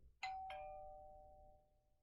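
Classic iPhone 'Doorbell' ringtone: two quick electronic ding-dong chimes close together, followed by a long ringing tone that slowly fades out, heard alone.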